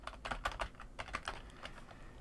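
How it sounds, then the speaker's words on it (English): Typing on a computer keyboard: quick, irregular bursts of light key clicks, close and fairly quiet, with short pauses between groups of keystrokes and no voice. "And I'll type in the beginning of my headline"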